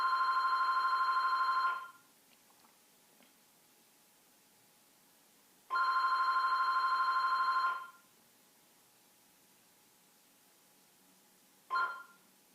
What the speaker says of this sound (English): This damn house phone is just gonna keep ringing.